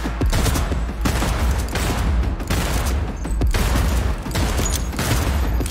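Continuous heavy gunfire in Cyberpunk 2077 combat, loud dense volleys of shots with brief gaps between bursts that keep up throughout.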